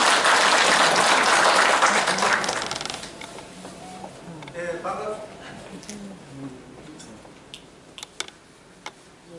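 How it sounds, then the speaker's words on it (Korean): At a citizens' forum in a workers' cultural center, an audience's welcoming applause rings out loudly and then fades after about three seconds, leaving scattered movement, a few clicks and a speaker's voice. "여러분 뜨거운 박수로 환영해 주시기 바라겠습니다"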